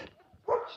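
A single short dog bark close by on a street in East Innisfail, Australia, preceded by a quiet low whine.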